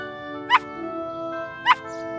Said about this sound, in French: Quelqu'un aboie.